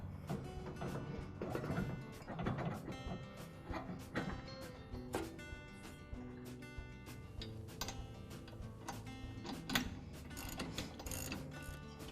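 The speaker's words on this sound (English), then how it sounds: "Now I can replace the motor pulley." Ratchet clicks, metallic taps and parts being handled come from replacing the motor pulley on a Troy-Bilt lawn tractor. The sounds are close, irregular and sharp, and no one talks.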